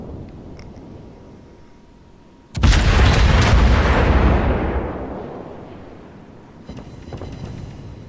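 Naval guns firing high-explosive shells in the World of Warships naval battle game, with a single heavy boom that bursts in loud and rolls away over several seconds, followed by fainter distant gunfire.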